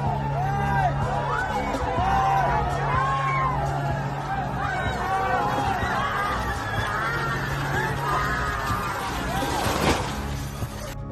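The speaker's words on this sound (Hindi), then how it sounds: "रथ को गिरता देख श्रद्धालु जोर जोर से शोर मचाने लगे।" A large crowd of devotees at a temple fair shouts and yells loudly as a 100-foot temple chariot falls, a dense roar of overlapping voices and cries that stays heavy throughout.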